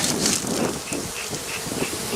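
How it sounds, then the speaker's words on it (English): Honey bees buzz in a dense, steady drone from an opened hive holding about six frames of bees, loud and close, with a few individual bees whining past. "Got a good 6 frames of bees there, guys."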